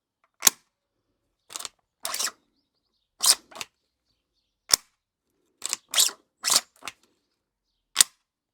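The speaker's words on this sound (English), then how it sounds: "Enough talking, let's get to actually shooting this thing." A 3D-printed DVL-10 replica rifle fires about ten sharp, snappy reports at uneven intervals, loud and close, with silence between each shot.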